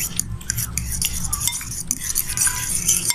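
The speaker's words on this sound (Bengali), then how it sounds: "আমি সুন্দর করে ডিমটাকে ফেটে নিলাম।" A fork or whisk beats an egg with chili and salt in a bowl. Quick, irregular clinks and scrapes of metal against the dish come in close bursts throughout.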